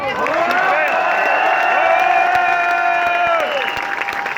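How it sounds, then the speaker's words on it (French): A crowd at an outdoor freedom demonstration in front of the Assemblée nationale in Paris cheers loudly and steadily, with sustained shouts ringing over continuous applause for the whole stretch. "On peut applaudir très fort Marc Boyer pour son combat et pour son courage."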